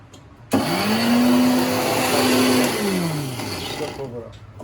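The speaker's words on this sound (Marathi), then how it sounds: "सुकंवर पण एक दोन वेळा करून घ्यायचं मिक्सरने जास्त नाही बारीक करायचं" An electric mixer grinder coarsely grinding edible gum and fenugreek, starting abruptly into a loud whirring drone that holds steady, then dips and winds down near the end, with a voice partly over it.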